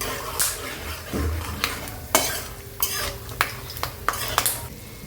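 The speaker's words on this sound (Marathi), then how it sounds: "सो असे काही शेंगदाणे मी फ्राय करून घेतलेत" Peanuts frying in oil until crisp, with a sizzling background and repeated sharp scrapes and clinks of a utensil stirring against the pan; no voices.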